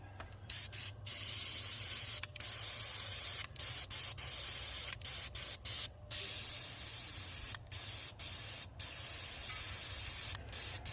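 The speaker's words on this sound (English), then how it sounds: "I'm really hoping, I'm just going to spray a little bit," Airbrush spraying paint on scale tank models in a steady close hiss, broken into repeated bursts by brief stops, with no voices.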